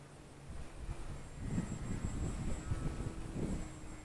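A small Yak54 EPP foam 3D aerobatic RC model plane, 800mm wingspan, flying in strong wind: a faint electric motor whine rising and falling under heavy wind buffeting on the microphone.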